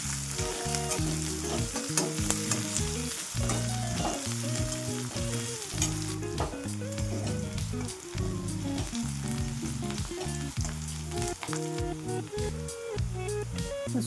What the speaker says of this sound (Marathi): लसूण, हिरवी मिरची, कांदा मस्तपैकी फ्राय झालेला आहे.